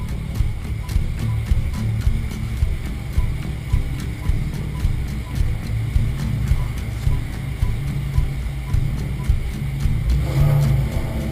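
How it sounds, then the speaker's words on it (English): Ford FPV GTE V8 on a dyno, its engine running with a steady, throbbing rumble and rapid pulsing, loud and close, swelling slightly near the end as it revs. "This FPV GTE is ready to hit the dyno."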